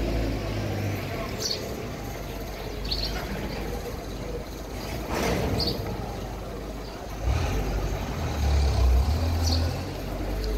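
Roadside traffic with a truck rumbling past, steady engine noise that swells midway and again toward the end, plus faint bird chirps scattered over the din.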